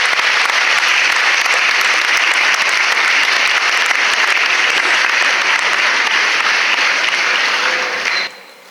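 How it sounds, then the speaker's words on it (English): Audience at an inter-school STEM prize distribution ceremony hosted by a Lions Club in Mangalore breaks into steady, dense applause for prize-winning students, loud and continuous, then cutting off abruptly near the end. "Please encourage students with a round of applause."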